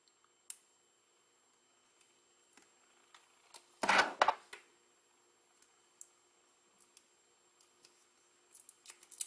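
Double-sided tape cut with scissors while assembling a toy glider, one brief crisp snip burst standing out against near silence and scattered small ticks of handling.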